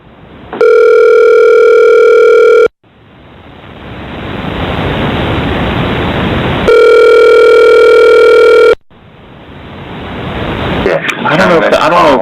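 Telephone dial tone breaking into a conference call, two steady loud tones lasting about two seconds each, alternating with hissing line noise that swells between them and ends in garbled crackle.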